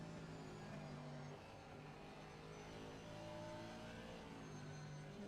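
A race car in a racing video game at Zandvoort hums past with a steady engine drone and whir, faint and continuous, with no talking.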